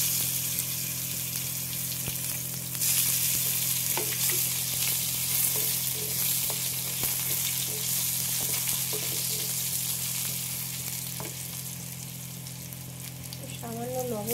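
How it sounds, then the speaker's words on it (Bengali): Dried red chillies, kalonji and mango fry in mustard oil, giving a steady close sizzle with stirring scrapes throughout and a brief louder bubbling burst near the end. "এর মধ্যে শুকনো লঙ্কাটা হালকা করে ভেজে নিচ্ছি। এর মধ্যে দিয়ে দিলাম কালো জিরা ফোড়ন, আর সাথে দেব আম।"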